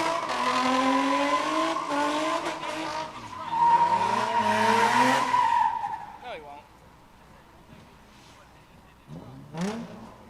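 A race car at a test-and-tune session slides under heavy throttle, its engine revving loud and close while the tires skid and squeal for several seconds before fading, with a brief second burst near the end.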